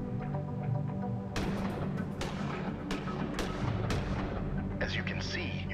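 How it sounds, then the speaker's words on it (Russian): Pistol shots from the game Gemini Rue crack out in a quick irregular series of about half a dozen sharp reports over a steady background hum. "теперь расстреляй оставшиеся патроны"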